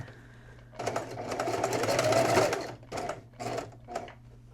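A sewing machine stitches elastic in bursts nearby, one long run of stitching followed by several short stop-start spurts over a faint background hum.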